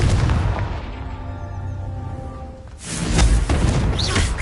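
A Confringo fire spell from Hogwarts Legacy goes off partway through, a loud broadband burst that rises abruptly out of quieter game ambience and then lingers as a rumbling blast with no talking.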